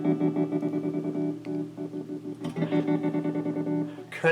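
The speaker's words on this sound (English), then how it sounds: "it's a pattern tremolo" A Line 6 POD modeling amp's pattern tremolo effect chops a sustained electric guitar tone into a rhythmic on-off stutter with distorted, chorus-like modulation, played loud and alone with no talking.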